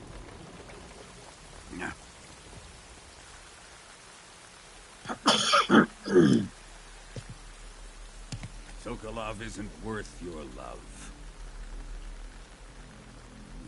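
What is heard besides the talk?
rain falling in video game Metal Gear Solid 3 Delta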